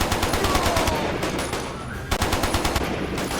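Rapid turret machine gun fire in the video game Quantum of Solace, a loud, continuous stream of close gunshots with a brief lull midway and game effects underneath.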